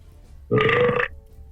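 One loud, half-second human burp rises abruptly out of quiet room tone and then cuts off cleanly, with no talking over it.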